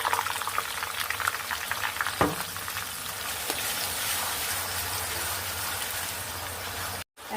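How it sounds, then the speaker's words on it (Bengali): Browned chicken frying in a pan with ginger-garlic paste just added, a steady close sizzle and bubbling with a brief clatter of stirring, alone without talk. "এই পর্যায়ে দিয়ে দিব আমি আদা রসুনের পেস্ট"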